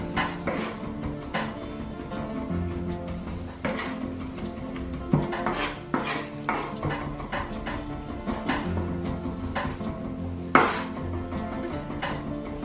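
A kitchen knife chops carrot on a cutting board for a vegan spaghetti bolognese, giving a run of irregular, fairly close knocks and taps over a steady tonal background.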